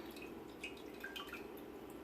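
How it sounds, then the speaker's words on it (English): A citric acid and water mixture is poured over a ladle into goat milk for mozzarella, giving faint close dripping and trickling splashes against a low steady background hum, with no talking. "I'm going to pour in the citric acid and water over the ladled spoon"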